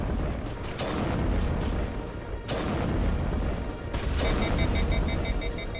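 Gunfire from weapons in the video game Mass Effect 1, a dense, continuous barrage of loud booming shots and blasts with brief dips, no talking over it.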